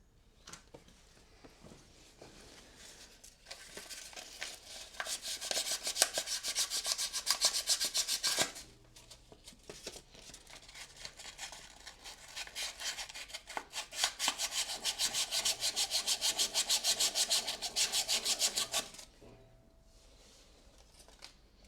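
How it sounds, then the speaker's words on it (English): Sandpaper rubbed over rusty metal in two long stretches of steady, rasping scraping, close and fairly loud, with short quiet pauses before, between and after. "I think maybe I'm gonna run a piece of sandpaper or something around, because it is a bit rusty"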